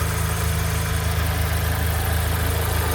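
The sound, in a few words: car engine idling and shaking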